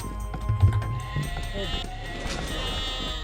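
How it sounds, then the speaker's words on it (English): Sheep bleat in the Age of Empires strategy game, several short bleats mixed into game sound effects, with someone talking over them throughout. "The sounds of sheep."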